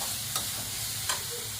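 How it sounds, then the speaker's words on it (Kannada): Masala stirred as it fries in a small amount of oil, a steady low sizzle with two brief scraping strokes of the spoon against the pan. "ತಳ ಹಿಡೋ ಚಾನ್ಸ್ ಇರುತ್ತೆ, ಹಾಗಾಗಿ ಕೈ ಬಿಡದೆ ಆಡಿಸ್ತಾ ಇದ್ದೀನಿ"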